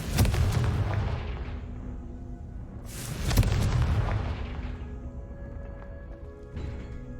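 Confringo spell in the Hogwarts Legacy video game, heard as two heavy booming explosions, one at the start and another mid-clip, each trailing off into a low rumble.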